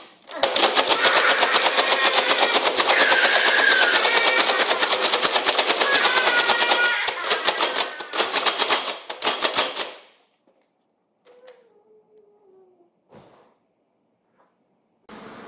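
A Nerf toy gun fires darts on full auto, a loud, fast, steady mechanical rattle lasting about ten seconds with a stutter near the end, followed by quiet handling clicks and a faint squeak.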